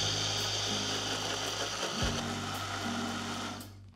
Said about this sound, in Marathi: 2 बॅचेसमध्ये मी हे दळून घेते आणि याचं छान बारीक पेस्ट करून घेऊया।